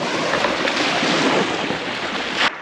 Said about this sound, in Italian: Qui ci sono le onde, però quelle almeno sono piacevoli.